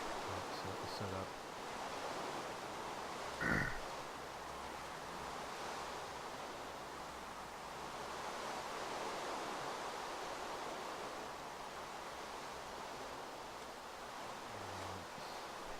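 Steady broadband rush of flowing water from a cheap built setup in a video game world, a continuous even wash running throughout with one brief soft knock near the start.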